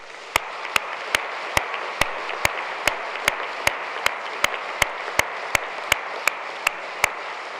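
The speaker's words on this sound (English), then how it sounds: "So give yourselves another round of applause." Graduation ceremony crowd applauding in a hall, a steady, moderately loud wash of clapping punctuated by one sharp, evenly timed clap repeating throughout.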